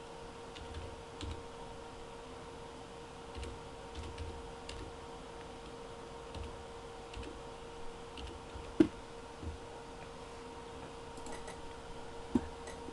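Typing an IP address on a computer keyboard for a Netgear router's WAN setup, quiet irregular key clicks close by over a low steady hum, with a couple of sharper louder taps.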